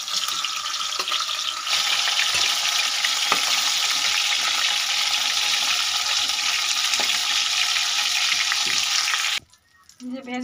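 Desi chicken pieces frying in hot oil give a loud, dense, continuous sizzle at close range that runs for several seconds, then cuts off abruptly near the end.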